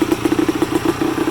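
A 1987 Honda TRX 250R two-stroke vintage race quad, just kick-started, idles close by with a fast, even, popping beat and a light mechanical clatter, and no voices.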